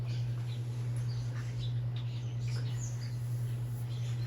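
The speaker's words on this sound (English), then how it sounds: "You may be hearing the birds" Birds chirp outside an open window on a fine day, scattered faint tweets over a steady low indoor hum.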